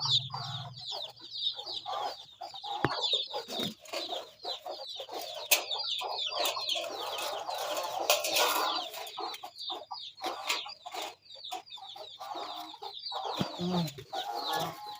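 A flock of farm chickens clucks and cackles continuously at close range, busy overlapping calls filling the whole stretch with a few louder squawks rising above the rest.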